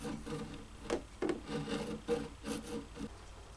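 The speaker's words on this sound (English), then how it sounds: "clean out each slot with the fret slotting saw" A fret slotting saw scrapes out the slots in the fretboard of a 1956 Gibson ES-125 guitar, making soft, close rasping strokes in short irregular bursts.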